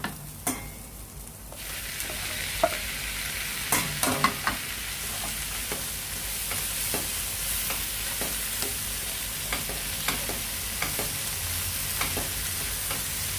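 Tomatoes and onions sauté in a pan for a tomato chutney, a steady bright sizzle running throughout, punctuated by repeated sharp scraping knocks of a spoon stirring. The sound is close, with no talking.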